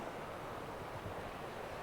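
Faint, steady wash of sea waves against a rocky ledge at night as the tide floods in on the South Wales coast, soft and continuous with no talk.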